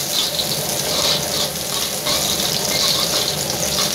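Shallots frying in hot oil for a squid and stink bean dish in red chili paste, giving a loud, steady sizzle with bright crackling throughout and no talk.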